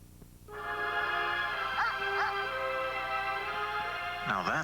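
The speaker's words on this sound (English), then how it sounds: "Now that's a dog." A dog in a television program gives a sustained whimpering whine over a low hum, then a brief sharper yelp near the end.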